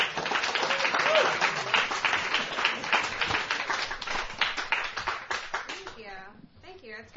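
A comedy club audience claps and cheers for a comedian coming to the stage, a busy, close burst of applause that thins out near the end as a voice starts talking.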